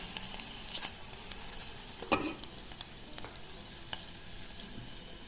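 Garlic and chilli tempering sizzling for rasam, a steady crackle with a brief louder splash midway as more ingredients go in, fairly quiet overall.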